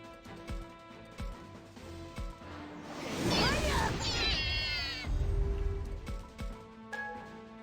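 A cat meows in a video game, a short rising-and-falling meow in the middle, with game sounds and a voice talking before and after.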